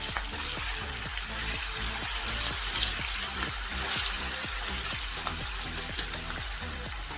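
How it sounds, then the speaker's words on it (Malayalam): Prawns frying in hot oil for a prawn pickle give a steady, close crackling sizzle, with a rhythmic backing tune running underneath. "ഇനി നമുക്ക് ബാക്കി വെച്ചിരിക്കുന്ന ചെമ്മീൻ കൂടി ഒന്ന് വറുത്തെടുക്കാം."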